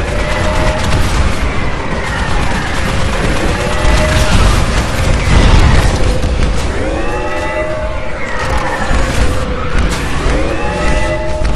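Titanfall battle: mortar titans shell the harvester, with loud rapid gunfire, booming impacts and sweeping whining weapon and engine tones piling into a dense, continuous clamor with no talk.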